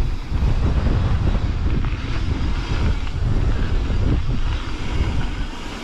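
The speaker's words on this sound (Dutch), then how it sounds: "Hier is de volle wind." Strong wind roars and buffets the microphone continuously while rolling downhill on a bike at a bike park in Mook, a loud, rumbling low-frequency gust noise with no voices.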